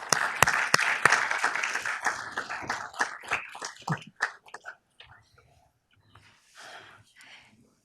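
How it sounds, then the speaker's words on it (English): Audience applause at a Downey city council meeting, brisk clapping that starts strong and thins out over several seconds into scattered claps and near silence. "A round of applause, please."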